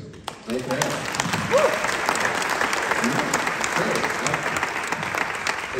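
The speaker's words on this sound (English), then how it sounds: "It got applause from everybody who's not live tweeting this conversation." Audience applause fills the room at a film festival Q&A, steady and dense clapping from a large crowd, with a brief cheer and some voices mixed in.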